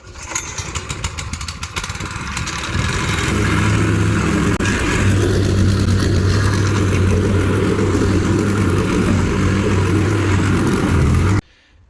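A plate compactor works a driveway sub-base being prepared for a porcelain driveway. Its engine starts up and settles into a loud, steady, continuous drone that runs to the end.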